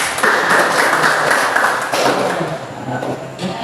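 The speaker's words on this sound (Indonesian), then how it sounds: "Kita hargai tepuk tangan" A group in a training session on positive discipline gives a round of applause, a dense, continuous wash of many hands clapping at close range that tapers slightly toward the end.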